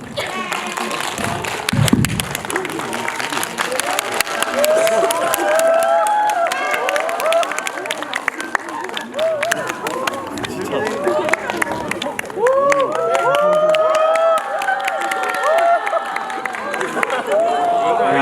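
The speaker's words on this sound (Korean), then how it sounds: "저희 감독님과 배우분 모실 텐데 많은 박수 부탁드리겠습니다" A Korean cinema audience at Lotte Cinema Centum City claps and cheers for the director and actors at a stage greeting for the film The Divine Move 2, with a crowd roar throughout and amplified talk over it.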